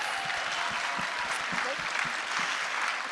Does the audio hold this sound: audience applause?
yes